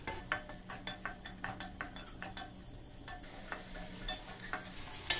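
Chopped shallots and curry leaves fry in oil for a Kerala-style prawn curry, a steady low sizzle broken by repeated scraping stirs of a spoon against the pan, close and fairly quiet with no talking.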